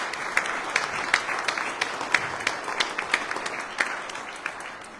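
An audience claps at a welcome reception in Canberra for the Indian women's cricket team, a lively round of applause from a moderate crowd with sharp individual claps standing out over the steady patter.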